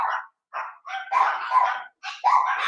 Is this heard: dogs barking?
yes